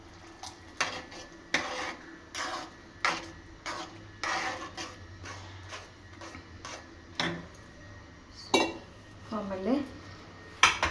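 A spoon adds curd to paneer butter masala in a pan, giving scattered light clinks and taps of metal on cookware against a soft kitchen background.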